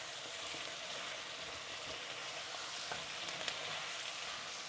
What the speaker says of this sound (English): we stir the flour in until the flour goes brown